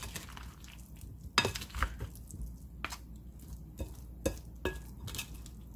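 A spoon scrapes and clacks against a bowl while diced potato salad with mayonnaise is stirred and mixed, with soft squelching between the sharper knocks.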